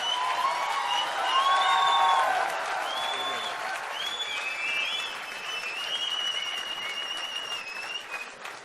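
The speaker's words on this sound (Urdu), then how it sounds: "ایک بار ذرا زوردار تالیوں کی گڑگڑاہٹ کریے" A large audience at a kavi sammelan poetry gathering in Bhopal applauds loudly for poet Rahat Indori, a steady roar of clapping with shrill whistles cutting through, sustained throughout and fading slightly near the end.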